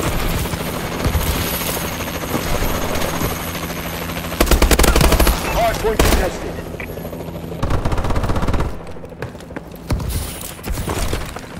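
Call of Duty: Advanced Warfare Warbird gunship, a continuous loud helicopter roar punctuated by heavy automatic gunfire bursts and explosive shots, with occasional faint voices.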